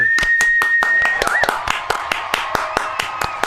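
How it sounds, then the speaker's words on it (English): An audience claps in a quick, regular rhythm after a live music performance, each sharp clap standing out. A sustained tone and some voices mix in underneath. "All those people applauding."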